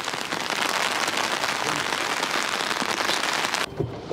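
Steady rain falling outdoors, a dense even hiss of drops on surfaces lasting several seconds before thinning abruptly near the end, moderately loud with no voices.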